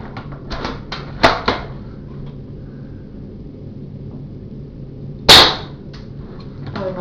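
Airsoft L96 sniper rifle firing: two sharp cracks close together near the start, then another loud snap several seconds later, against a steady low background hum with small scattered clicks.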